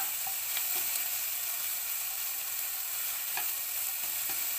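Chopped garlic and onion frying in a pan for a sausage cassoulet, with a constant close sizzle and soft stirring scrapes running throughout.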